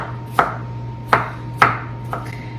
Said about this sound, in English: I'm gonna cut them right down the middle so that when I'm done, they're just like all bite-sized, 1/4 inch pieces